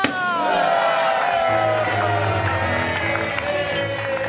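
On a live Indonesian TV comedy show, the studio audience applauds the host. Loud, continuous clapping and crowd noise run under upbeat music for the whole stretch.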